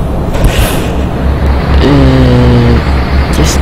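A Freightliner Coronado truck in Euro Truck Simulator 2 idles with a low steady engine rumble, then a brief tonal whine from the brakes rises and fades midway, close and fairly loud.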